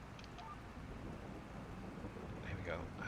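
A thunderstorm with rain in a farming video game: a steady hiss of rainfall with low rumbling beneath, continuous and fairly quiet.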